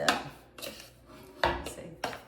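Sugar stirred into a turkey dressing mix in a bowl, four distinct clinking scrapes of a utensil against the bowl in an uneven rhythm, close and fairly quiet, with no talking.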